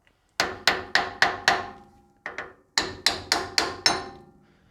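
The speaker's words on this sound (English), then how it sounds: "take your brass hammer and have a couple of light taps on the spindle itself just to free it up" A brass hammer lightly taps the spindle of a Toyota Landcruiser swivel hub: five quick metallic taps, a brief pause with two softer ones, then another run of five, close and distinct with no talking.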